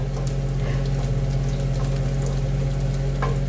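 Garlic frying in oil in a pan for a Filipino string bean and tofu sauté with pork, giving a steady, close sizzle with light crackle throughout and no talking.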